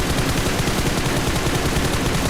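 Rapid gunfire in the PUBG Mobile video game, a dense burst of automatic shots rattling continuously and loudly for a couple of seconds with no talking.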